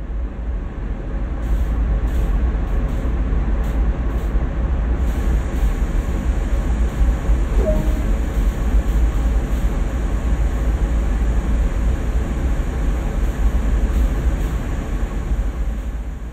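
Train braking in the Train Sim World game: a steady, loud low rumble of a train running on rails, continuing throughout with a faint hiss in the upper range and no voices.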